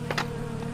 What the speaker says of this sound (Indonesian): Bila mana ketemu lebah jenis apis cerana yang lagi swarming atau pecah koloni